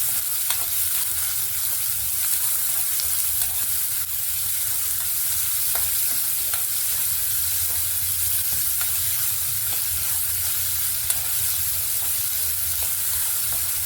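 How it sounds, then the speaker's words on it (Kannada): Onions frying in oil in a pan for a bitter gourd palya, a steady close sizzle running throughout with occasional soft stirring clicks. "ಈರುಳ್ಳಿನ ಎಷ್ಟು ಚೆನ್ನಾಗಿ ಹುರಿಬೇಕು"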